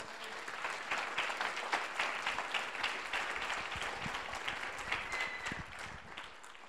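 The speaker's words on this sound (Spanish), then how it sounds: "Denle un aplauso al Señor por esto." A church congregation applauds together, a dense sustained round of clapping from many hands that holds steady and then tapers slightly toward the end.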